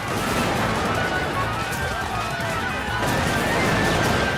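Cartoon battle gunfire from a Revolutionary War history animation, a dense, continuous loud barrage of musket shots and noise with no clear individual cracks, heard alone without talk.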